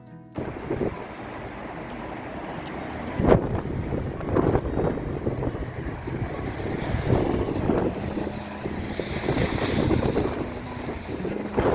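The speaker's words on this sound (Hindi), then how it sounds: "कितनी तेज़ हवा चल रही है।" Strong, cold wind gusts roar and buffet the microphone outdoors on a cloudy day, a continuous rumbling rush that swells and eases, with no one speaking.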